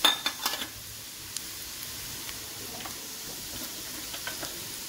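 A few peanuts dropped into a hot pan for kuskura, a Maharashtrian breakfast of leftover roti, give a quick cluster of clinks and crackles, then settle into a faint, steady sizzle with sparse ticks, no talking.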